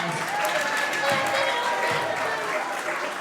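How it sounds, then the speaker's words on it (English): A wrestling show crowd applauds itself in a packed venue, continuous dense clapping and cheering washing over the hall at a fairly even level, with faint voices mixed in. "Give yourselves a round of applause."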